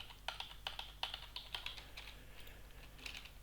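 Quiet, quick keystrokes on a computer keyboard tap out an uneven rhythm of crisp clicks at close range over a low steady hum.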